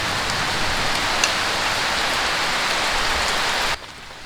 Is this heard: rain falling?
yes